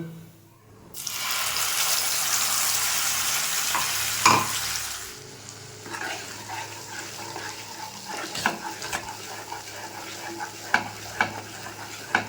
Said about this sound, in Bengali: এবার মশলাটা দিয়ে একটু কষিয়ে নেব।